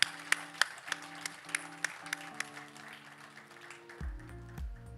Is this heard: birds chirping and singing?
no